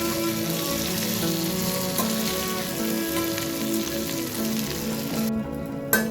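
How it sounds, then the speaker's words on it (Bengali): Crab fries in a pan over a low gas flame, a steady close sizzle and crackle with occasional scraping stir sounds, dropping away briefly near the end. "আবারও মিনিট 4 পর ঢাকাটা খুলে দিয়েছি, দিয়ে এটাকে ভালোভাবে নেড়ে দিচ্ছি।"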